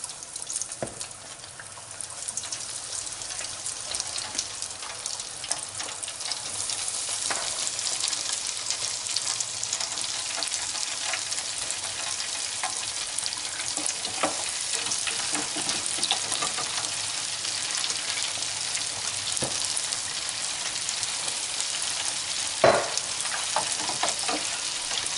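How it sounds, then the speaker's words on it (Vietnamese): Seasoned shrimp fry in boiling oil, giving a loud, steady sizzle and crackle for the whole stretch. Occasional sharper pops and spatters break through the hiss. "Các bạn mình để vô mình chiên nha bạn"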